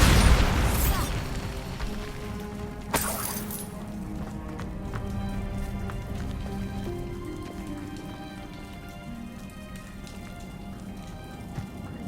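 A Bombarda spell blast in the video game Hogwarts Legacy: a loud, sharp explosive burst at the start and a second crack about three seconds later, each trailing into a rumbling, crackling game soundscape.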